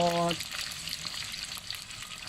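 Shrimp frying in hot oil for a stir-fried chili-and-salt shrimp dish gives a steady, close, moderately loud sizzle and crackle. It follows a brief voice at the very start and then continues on its own.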